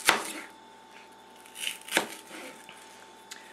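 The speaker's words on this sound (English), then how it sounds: "good way I've been told to chop onions" A few sharp knife chops through onions on a board, spaced irregularly, close by with quiet pauses between them.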